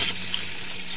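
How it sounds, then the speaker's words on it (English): Water running from a tap during a sewer line inspection, a steady broadband rush of flowing water with no voices, constant and fairly close throughout. "Let me turn on the water again"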